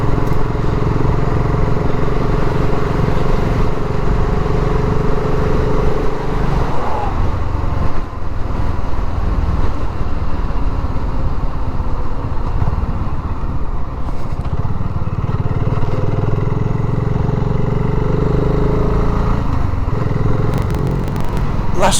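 A BSA Goldstar 650 motorcycle engine runs steadily while riding on roads south of Doncaster, a loud continuous low drone with wind buffeting throughout, no clear talk over it.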